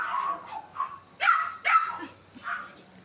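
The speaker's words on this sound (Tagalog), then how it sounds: "Nag-iingay yung mga aso kasi paalis yung kapatid ko." Several dogs bark in short bursts close by, sharp yips and barks in an uneven rhythm with brief whimpering between them, loud against a quiet background.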